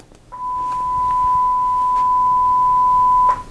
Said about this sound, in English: Let's now hear the same sound as a sine wave.